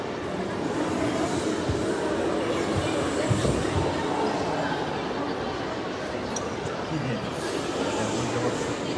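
An Al Boraq high-speed train at Rabat Agdal station gives a continuous rumble and rail noise, with people talking in the busy station over it.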